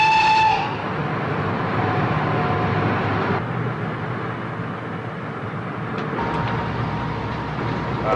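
A train locomotive runs steadily toward a tunnel, a continuous loud rumble with rolling wheel noise, opening with a brief horn-like tone and a slight change in character partway through.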